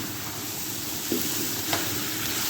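Grated carrot for halwa fries in a little oil, a steady close sizzle with soft scraping stirs now and then.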